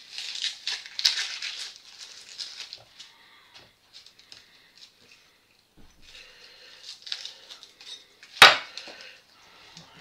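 Small onions being sliced with a knife at a home kitchen counter, giving light, irregular tapping and scraping against a board with one sharp, loud knock near the end; no talking.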